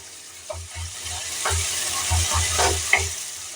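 Spices fry in a pan with a moderate sizzle, punctuated by regular low thumps and scraping of stirring, close and fairly steady, with no speech.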